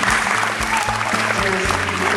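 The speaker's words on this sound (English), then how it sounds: "Applause please, thank you." Applause from an audience at a badminton league prize presentation in Malaysia, a steady dense wash of clapping throughout, with a low hum and faint voices underneath.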